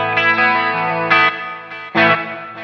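Smart guitar on its factory clean preset, plugged straight into an audio interface, rings out ambient chords with chorus-like shimmer, several strums spaced apart and sustaining, loud with no talking.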